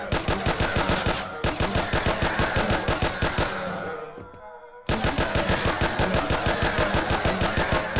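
Rapid automatic gunfire from a low-rated first-person shooter video game, loud and continuous in steady bursts, breaking off briefly twice before the rattling volleys resume at full strength.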